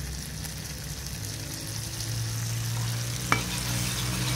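Frozen balado chili paste made with bird's eye chilies, garlic and shallots sautéing in a pan, a steady close sizzle and frying hiss with faint stirring and one sharp utensil tap near the end.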